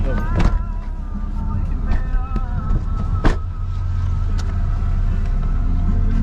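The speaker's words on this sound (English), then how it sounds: "Cesar's just got us into a taxi, a little share car, yeah, taxi" Steady engine rumble inside a small shared taxi car in Tucupita, Venezuela, with a continuous low drone and a few brief bumps and clicks, and voices talking over the ride.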